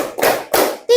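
A classroom of children claps in a quick counting rhythm, two crisp bursts of hands followed by a third clap, loud and close, with a voice cutting in at the end.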